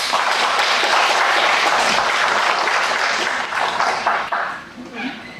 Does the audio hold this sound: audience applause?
yes